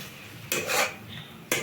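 Mustard-poppy paste is stirred into a moringa curry in a pan, heard as two short scraping strokes of a spoon against the metal with a quiet pause between them.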